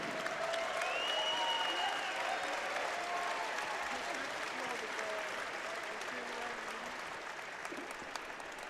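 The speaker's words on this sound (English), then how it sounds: "Fans, please put a big round of applause together for both of the fighters in this cage." Spectators at an MMA fight night in a cage venue applaud steadily after a bout, a dense, even wash of clapping with crowd murmur and faint voices underneath throughout.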